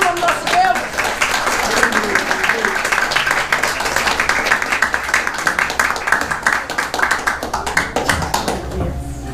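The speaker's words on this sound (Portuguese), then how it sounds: "Quantos podem aplaudir o nome do nosso Deus?" A church congregation applauds, with dense, energetic clapping sustained for several seconds and loud throughout. Voices mix in under the clapping.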